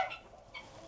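Chickens cluck briefly on a crowded farm, a few short, moderately faint clucks and squawks close by with no talking.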